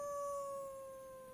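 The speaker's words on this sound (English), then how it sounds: "Excuse me, that howling, is that you or are there wild dogs?" Wild dogs howl at a distance, a single sustained, faint tonal wail that slowly fades and hangs over quiet background air.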